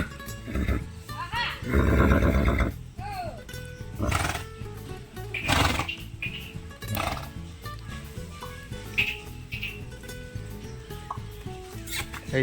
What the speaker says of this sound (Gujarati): આ છે આપણી ઘોડી ખુશી.